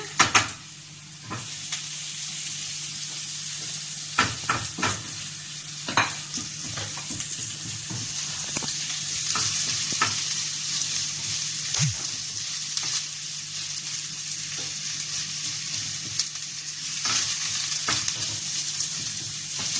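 Squid adobo sizzles and fries in a pan while a utensil stirs it, giving a constant crackling hiss. Repeated scraping and clinking of the stirring sits close and clear, with no talk.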